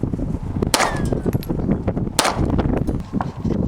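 Two sharp outdoor shotgun blasts about a second and a half apart, loud and close, each followed by a brief echo over a rough, noisy background with no talking.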